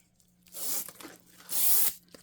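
A separating zipper on a winter puffer coat is pulled open in two quick, raspy strokes, each a bright, close tearing whir lasting under half a second, with soft fabric handling between.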